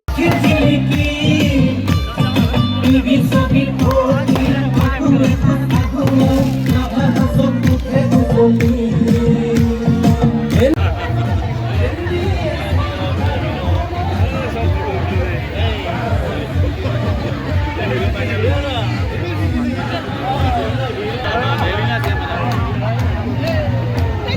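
A large crowd in Assam celebrates the Rabha Hasong Autonomous Council election results, with loud continuous chatter, shouting and babble, rhythmic drumming early on, and people talking throughout.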